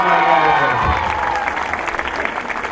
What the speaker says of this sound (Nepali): सबैले ताली बजाएर उहाँले स्वागत